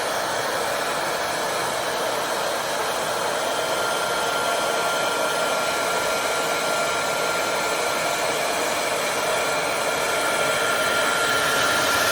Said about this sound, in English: you blow dry your hair this way as well